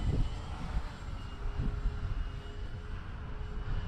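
A twin-engine Avios King Twin 1700mm RC airplane drones steadily overhead with its gear up at about three-quarter throttle, a continuous moderate engine hum with no talk.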